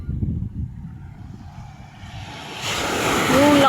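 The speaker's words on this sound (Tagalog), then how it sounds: "Oh, lakas ng alon." Strong ocean surf breaking on the shore at Naic, Cavite, a loud rushing wash that swells toward the end, with wind buffeting the microphone and people talking faintly nearby.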